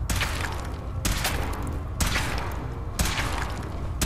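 Heavy weapon fire at a suit in a sci-fi video game, four booming blasts spaced about a second apart over a dense, rumbling mechanical backdrop.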